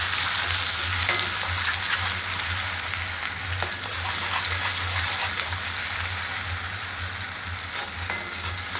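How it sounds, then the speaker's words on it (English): Curry paste sizzling and frying in hot oil with bay leaves for a peas and mushroom dish, a steady close crackling hiss with faint stirring scrapes throughout, no talking. "now adding the paste into this hot oil"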